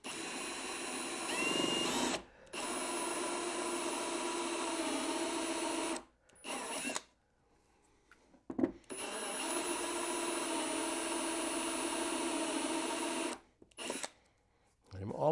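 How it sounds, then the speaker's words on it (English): Power drill boring a hole to mount the sensor of an Oneida Dust Sentry dust collector upgrade. It gives several steady whirring bursts separated by short pauses, close and moderately loud. "So I'm going to drill down to the black line"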